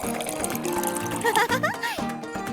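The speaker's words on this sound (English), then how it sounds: "Looks like it's time to water our vase." Water pours into a vase, a brief rushing fill with rising gurgling tones as the level climbs, close up over light background sound.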